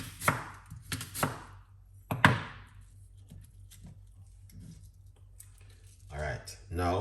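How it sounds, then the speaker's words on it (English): A knife chops through green apple on a board, making several sharp, close knocks in uneven bursts, with quiet gaps between and a voice speaking briefly near the end. "And now we are cutting up green apple."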